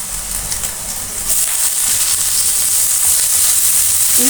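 Pandan leaves and carrot drop into hot oil, setting off a steady loud sizzle and crackle of frying that intensifies after a moment and keeps hissing alone.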